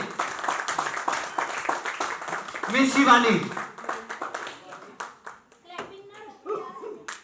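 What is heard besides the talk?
audience applause at office party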